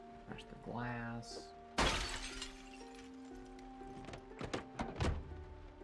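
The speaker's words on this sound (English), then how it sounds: "Smash the glass." Car window glass smashed in a burglary video game: a loud crash with scattered shards about midway, among other short thuds and clunks, with a voice speaking before the break.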